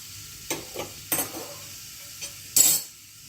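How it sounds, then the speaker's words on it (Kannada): Urad dal, mustard seeds and turmeric crackle in hot oil for a tempering, with several short bursts of sizzling and popping and spoon clinks against the pan, the last burst loudest, then quiet. "ನೋಡಿ ಚೆನ್ನಾಗಿ ಒಗ್ಗರಣೆ ಆಗ್ತಾ ಇದೆ"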